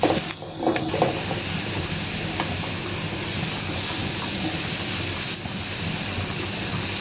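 Dried fish (shutki) frying slowly in a pan on low heat makes a continuous, even hiss with faint crackles, fairly loud and steady, with no voices.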